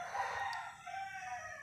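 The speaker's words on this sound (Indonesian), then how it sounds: "Mohon maaf kalau ayamnya agak berisik ya. Ini ayam tetangga" A neighbour's rooster crows in one long, drawn-out call that carries at moderate distance and fills the whole moment, with no talking over it.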